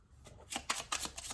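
Tarot cards shuffled by hand in a few quick riffling bursts, close and fairly quiet, with no talk over them.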